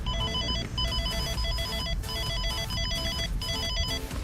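Electronic phone ringback tone during an unanswered call to a customer, repeated beeping tone pulses in regular bursts over a low background rumble, steady and fairly loud.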